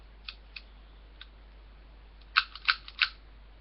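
An airsoft USP Tactical pistol slide is racked through several cycles, giving a few faint light clicks followed by three sharper, louder mechanical clacks in quick succession, close up and with no talking.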